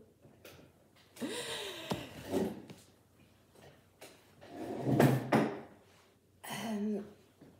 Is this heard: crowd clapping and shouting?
no